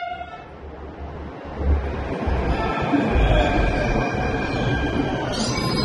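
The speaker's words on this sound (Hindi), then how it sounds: "हमारी मेट्रो आ गई" A metro train pulls into a station, its steady rumble and rail rattle building up close and loud, with a brief higher tone near the end.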